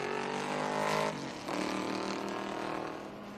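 A maroon Datsun 510 race car at the Indy road course lapping with SVRA vintage racing traffic. Its engine note rises to a peak, drops as it shifts, then climbs again, heard at a moderate distance without talk.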